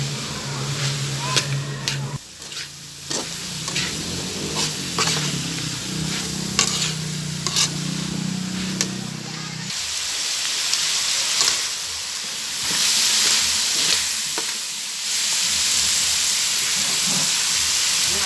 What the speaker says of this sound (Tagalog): Ayan, halo lang. Halo-haloin.